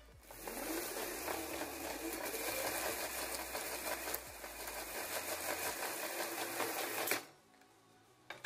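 Motor of a homemade DIY electric bike running in a basement, a loud steady whine with rattling mechanical chatter that spins up, holds for about seven seconds, then winds down into quiet with a couple of clicks.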